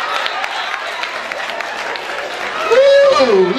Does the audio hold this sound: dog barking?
no